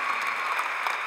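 Loud, sustained applause from a live concert audience, steady and dense for the full moment with no pauses.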